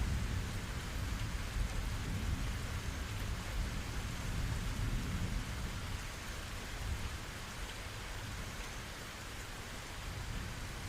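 Heavy rain pours steadily onto a surface, with deep thunder rumbling beneath it, a constant dense wash of sound meant as a calm sleep background, with no voices.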